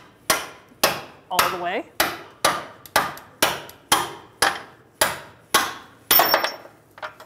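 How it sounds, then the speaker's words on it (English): Hammer blows drive a lower control arm bolt out of a 2000-2007 Ford Taurus front suspension, about a dozen sharp, evenly spaced metallic strikes in close succession, with a brief spoken phrase partway through. "I'm gonna tap the bolt out"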